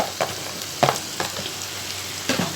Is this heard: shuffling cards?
no